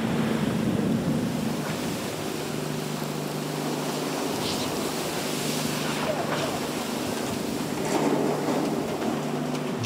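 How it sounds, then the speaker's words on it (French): Rough surf and wind fill the scene with a constant broadband wash, waves breaking repeatedly nearby and dousing a tuna fishing boat, with faint voices and an engine hum underneath. "Les hommes vont vite oublier les vagues qui les douchent régulièrement."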